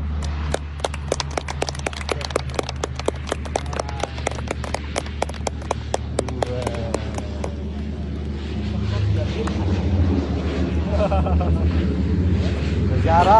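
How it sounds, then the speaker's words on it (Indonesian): A calibration aircraft landing at Singkawang airport, its engine droning steadily beneath a rapid train of sharp clicking or ticking sounds, then a broader rushing roar building toward the end; people talk nearby. "Ini pesawat khusus kalibrasi ya untuk mengetes runway kita."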